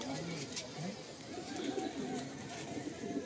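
Soft, low cooing of a racing pigeon of the dowaj type, a few murmured coos repeating close by over a faint steady background hiss.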